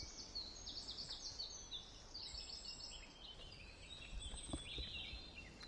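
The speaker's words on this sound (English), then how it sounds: "You hear the birds chirping." Birds chirp and twitter in a park beside a disc golf course, faint high calls repeating over a soft outdoor background hiss.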